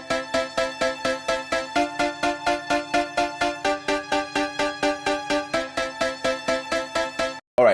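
A string lead over a full beat in an FL Studio remake, with steady pulsing hits driving a dense harmonic line throughout, loud and without voices, cutting off abruptly near the end.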